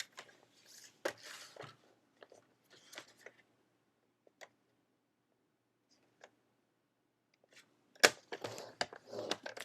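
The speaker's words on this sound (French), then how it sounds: "vous allez faire des plis tous les 4 cm tout autour" Paper or cardboard is folded into pleats every few centimetres while making an organiser. The folding gives quiet, sparse crinkles and creasing clicks, with a louder burst of rustling near the end.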